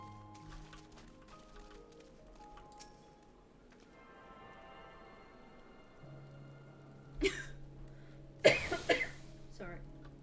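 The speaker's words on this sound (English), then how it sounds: "It snuck up on me, that little coffee cough." A person coughs twice in short, sharp bursts during a Final Fantasy XIV gaming session, while quiet game music and tones play underneath.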